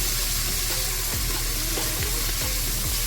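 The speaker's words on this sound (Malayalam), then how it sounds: "ഇനി നമുക്കിതിലേക്ക് അരിഞ്ഞ് വെച്ചിരിക്കുന്ന സവാള ഇട്ട് കൊടുക്കാം കേട്ടോ." Chopped onion sizzles loudly in hot coconut oil with cinnamon and cloves, a dense continuous crackle close up with a few soft stirring scrapes.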